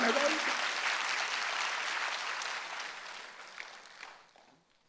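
A church congregation applauds during a Sunday worship service, the dense wash of clapping steady at first, then thinning and fading out toward the end with a few lingering claps.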